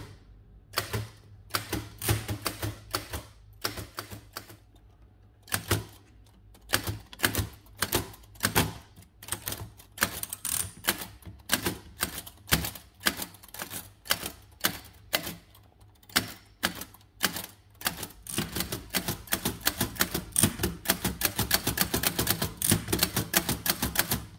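A 1909 Adler 7 typewriter being typed on, with sharp mechanical key strikes clacking in irregular bursts that grow quicker and denser toward the end, close and alone.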